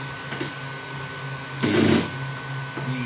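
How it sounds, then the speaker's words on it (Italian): An Ender 3 V2 3D printer printing PLA hums with steady stepper-motor tones, rising briefly into a louder, busier whir midway before settling back to its quieter drone, with no voices. "con questa modalità qua la stampante stampa dall'interno verso l'esterno"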